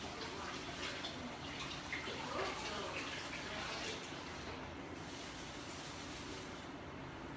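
Fresh parsley is rinsed under a running kitchen tap, giving a steady, fairly faint hiss of flowing water that continues unbroken from start to finish.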